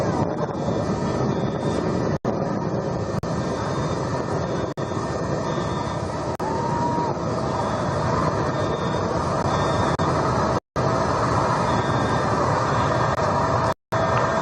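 A Blue Origin rocket engine roars at full throttle during launch ascent, a dense, continuous, loud rumble lasting throughout, broken only by a few brief dropouts, with no voices over it.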